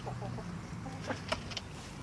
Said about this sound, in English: This is Maz, our broody chicken.